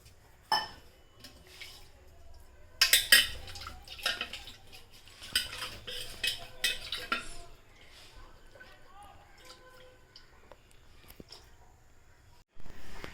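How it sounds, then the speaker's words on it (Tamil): In a kitchen making idli batter, a container is rinsed and the water poured into the batter. Intermittent clinks and clatter of the vessel mix with brief splashes of water, close and fairly quiet. "இதை அலம்பி அதில் விட்டுடுறேன்."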